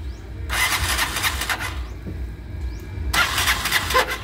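A small engine cranks with a harsh starter whir in two bursts, then catches and runs steadily at a low idle.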